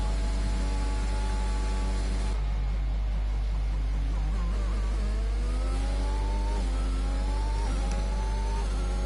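Racing car engine on a flying lap around Bahrain in a league race in a video game, droning steadily and then climbing in rising, gear-stepped revs as it accelerates, with no talk.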